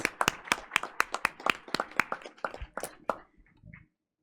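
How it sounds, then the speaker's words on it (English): A round of applause breaks out at a Board of Education meeting, with many hands clapping briskly in a dense burst that thins into a few scattered claps before fading to silence. "let's go ahead and give them a round of applause, please."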